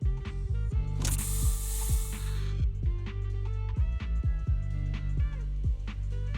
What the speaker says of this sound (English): Here, have a taste of this special Bangboo spray.